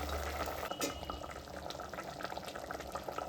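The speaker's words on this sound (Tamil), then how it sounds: "கழுவி ஊற வச்ச அரிசியை சேர்த்துக்கிறோம்" Washed, soaked rice is tipped into a pot of water while making South Indian tomato rice, giving a close, continuous watery rush and swirl with some light sloshing.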